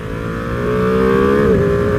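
A 2021 Ducati Panigale V2 sport motorcycle engine with stock exhaust revs steadily and loudly, its pitch climbing and then dipping slightly near the end, close up with no talking.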